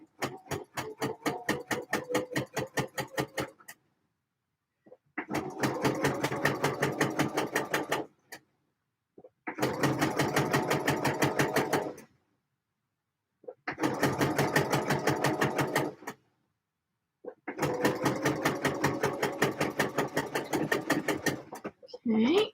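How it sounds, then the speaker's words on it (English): A sewing machine understitches a lining on a Deer and Doe Cardamome dress in five rapid, rhythmic runs of needle clatter separated by brief silent pauses, loud and close. "So a little bit of understitching going in."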